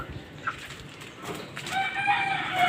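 Rooster crowing nearby among chickens, one long drawn-out crow building toward the end over soft farmyard noise.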